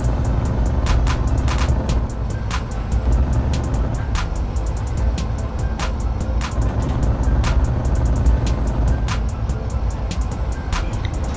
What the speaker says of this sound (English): There's a truck overtaking us there